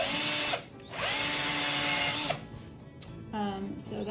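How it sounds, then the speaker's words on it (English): A power drill bores through the plastic insert material of an old-style GreenGuard grazing muzzle, its motor whining loudly in two long runs with brief pauses and a short final burst. "I have not tried to drill through this material yet, so we'll see."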